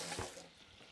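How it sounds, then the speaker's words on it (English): Water from a kitchen tap runs as hands are rinsed during mushroom cooking, a short, steady close splash with a brief louder burst near the start. "Just let me rinse my hands."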